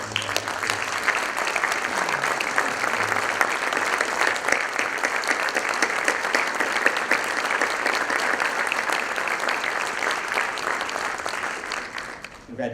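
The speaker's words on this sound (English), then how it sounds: "a nice round of applause to follow" Sustained, even applause from a school auditorium crowd at a Silver M and National Honor Society induction ceremony, continuous clapping that carries on for several seconds before tapering off, with a faint voice underneath early on.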